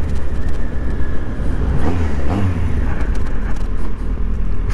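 A Yamaha XJR 1200 motorcycle engine drones loud and close, a dense low rumble rising in pitch as it accelerates, with wind noise over it and no talk.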